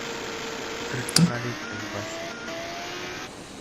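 A car in the video game DayZ MTA drives along with a steady low engine drone throughout, a brief sharper knock or thump near the middle, and no talk over it.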